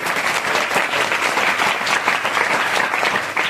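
Audience applause at a religious discourse gathering, a dense, steady wash of many hands clapping close and loud throughout, with no break.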